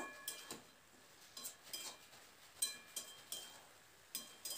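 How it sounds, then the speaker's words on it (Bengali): A utensil stirs spinach with spices in a pan, giving soft, irregular scrapes and light metallic clinks roughly every half second, quiet and close, with no one talking. "এবার খুব ভালো করে মশলার সঙ্গে নাড়াচাড়া করে শাকটাকে একটু মিশিয়ে নেব"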